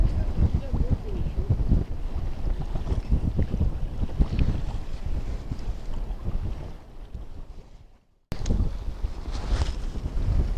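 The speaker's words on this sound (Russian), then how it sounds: "Ветер сильный какой." Strong stormy wind buffets a small boat out on a lake, a steady roaring rush with microphone buffeting and water slapping throughout, dropping out briefly near the end before gusting back in.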